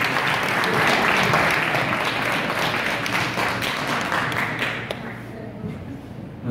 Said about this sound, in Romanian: Să-l primim cu aplauze!